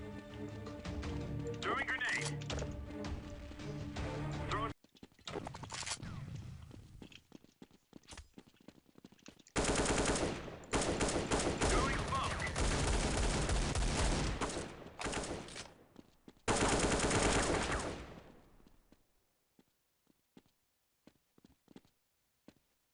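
Gunfire in the video game Counter-Strike 1.6, loud bursts of rapid shots in several separate volleys broken by short pauses, with someone talking between and over them.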